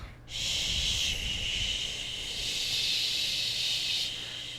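A voice imitates falling rain with a sustained breathy hissing, rising and swelling slightly over a few seconds, close to the mouth.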